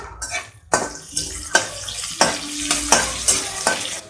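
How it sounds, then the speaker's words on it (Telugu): Cashews fry in a pan until light brown for wheat rava upma, with a crackling sizzle broken by several sharp spoon scrapes and knocks against the pan at an uneven rhythm. "కొంచెం లైట్ బ్రౌన్ వచ్చే వరకు కొంచెం ఫ్రై చేసుకోవాలి"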